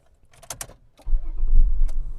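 A 2001 Honda Accord starting up: a few faint clicks and jingles of keys, then a short crank that catches into a loud, steady idle rumble close by, with no talking.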